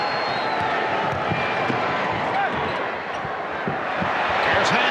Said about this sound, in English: And Stacey King hears it from the crowd.